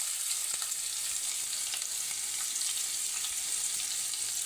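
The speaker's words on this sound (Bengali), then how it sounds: "পেঁয়াজগুলো দেখুন ভাজা ভাজা হচ্ছে" Chopped onions fry in hot oil with a steady, bright sizzle and crackle that runs evenly throughout at moderate volume, with a faint stir or two.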